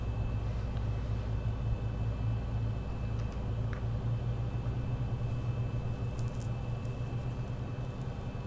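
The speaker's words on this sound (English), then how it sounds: "There we are, engine number 2 has now come to life." Engine number 2 of a Boeing 737 in the X-Plane 11 flight simulator spools up into a steady, droning rumble with a thin, constant high whine, holding an even level throughout.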